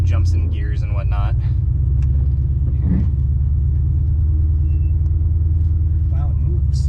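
A supercharged car drives with a deep, loud engine rumble throughout, with a hard, abrupt upshift near the middle; a person talks over it at the start and again near the end.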